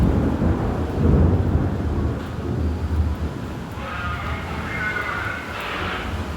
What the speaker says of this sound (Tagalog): Grabe kalakas ng ulan